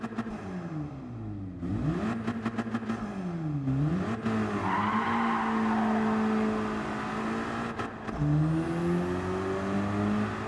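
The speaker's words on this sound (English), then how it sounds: "here is a Volkswagen Golf Mark 7. Its EA888 engine is fairly well known for sounding crap no matter what you do to it" A Volkswagen Golf Mk7 with its EA888 engine revs in Gran Turismo 7, droning through rising and falling pitches and gear shifts, with tyre squeal partway through and brief cuts between bursts.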